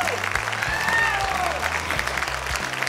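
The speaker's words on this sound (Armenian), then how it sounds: "ավելի բարձր ծափարություններ" A television talent-show audience claps in a dense, continuous burst of applause that stays loud throughout, with faint crowd noise and some music underneath.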